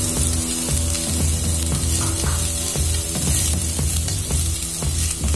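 Chopped vegetables, including carrot pieces, fry in a pan for hotel-style Tamil Nadu idly sambar, a continuous close sizzle broken by rhythmic stirring scrapes.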